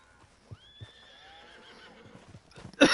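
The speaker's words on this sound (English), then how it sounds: "Horses, horses, and more horses." A horse whinnies in Red Dead Redemption 2, a long rising-and-falling neigh near the listener, with a few hoof knocks before it and a sharp burst of noise at the end.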